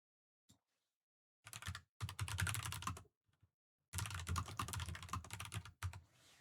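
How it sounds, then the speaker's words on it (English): Typing on a new computer keyboard comes in two bursts of rapid, crisp key clicks separated by a short pause, close and fairly quiet with near silence around them. "I love the way this new keyboard sounds"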